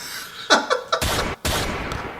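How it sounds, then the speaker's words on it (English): Gunshot sound effects play on a talk show as a quick series of sharp cracks followed by two heavier, sustained blasts of gunfire. "Can we get some gunshots for"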